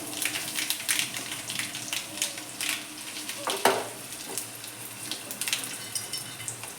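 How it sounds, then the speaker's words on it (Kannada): Garlic and cumin seeds frying in a pan, a close, lively sizzle that swells and crackles in uneven bursts as the spices are stirred. "ಬೆಳ್ಳುಳ್ಳಿ ಹಾಕಿ ಜೀರಿಗೆ ಸಾಯಿಸ್ಬೇಕಿನ್ ರೀ."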